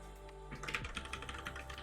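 A computer keyboard clatters with quick, uneven keystrokes close by, in a short burst over a low steady hum, with no voice.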